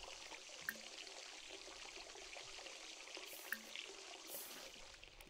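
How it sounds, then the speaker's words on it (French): Water running steadily from a broken faucet in The Sims 4, a soft continuous pouring and trickling hiss with a couple of faint clicks, no speech. "elle a bouché les toilettes. Et en plus de ça, elle a cassé le robinet."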